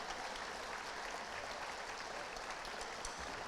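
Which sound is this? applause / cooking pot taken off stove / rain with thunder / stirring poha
applause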